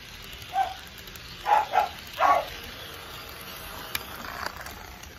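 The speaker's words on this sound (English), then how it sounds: "my dog has to bark." A dog barks four short times in the first two and a half seconds, sounding fairly distant against a quiet background, and then falls silent.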